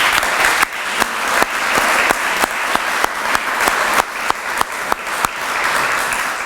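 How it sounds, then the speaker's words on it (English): An audience applauds for Peg O'Connor at a community development week celebration, with a steady wash of clapping punctuated by sharp, distinct individual claps close by. "I'd ask you to still give a round of applause to Peg O'Connor"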